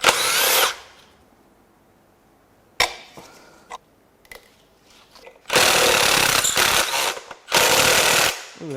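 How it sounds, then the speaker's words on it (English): A power tool whirs loudly in bursts while unbolting the EGR valve on a Ford 4.6L Modular 2V engine, with quieter metallic clicks and clunks in the pauses between runs. "we'll get the EGR valve unbolted"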